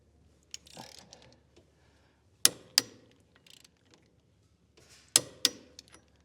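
Sharp metallic clicks from a torque wrench tightening a UTV axle nut, two pairs of crisp ratchet snaps separated by quiet handling noises, close and alone.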